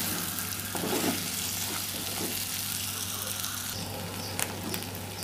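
Tinda tamarind gravy with chili and coriander powder sizzles softly in a pot while a spoon stirs it, with a steady low hum underneath.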